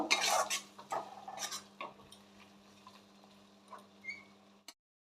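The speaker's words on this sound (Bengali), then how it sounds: "একটু ভালো করে কষিয়ে নেব" A spatula scrapes and stirs chicken masala in a pan while it sautés for chicken kasha, with several clattering strokes early on, then quieter intermittent scraping over a low steady hum, close by.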